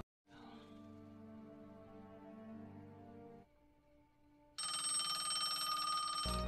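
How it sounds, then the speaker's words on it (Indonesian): Telephone ringing in a film scene, a steady electronic ring that pauses briefly and then returns much louder and brighter, with no talk over it. "ketika telepon berdering dan Jacob yang mengangkat telepon"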